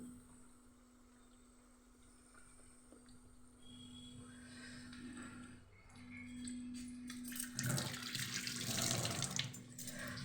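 Tap water runs into a kitchen sink while cauliflower florets are washed, a steady close stream that grows louder and more splashy midway as the vegetable is moved under the flow.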